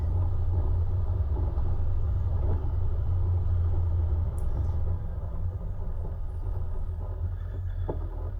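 A Toyota 76 series 4WD engine labours in low range up steep gravel near Mt Elliot, Corryong, a steady deep rumble with a constant drone and faint crunches from the track.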